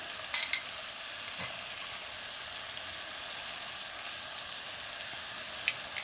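Pickled chilies cook in a pan for a beef curry, giving a soft, steady sizzling hiss with a couple of faint clinks near the start.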